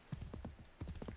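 Horse hooves clip-clop in Assassin's Creed 3, several quick, light steps in two short bursts at close range, quiet and alone.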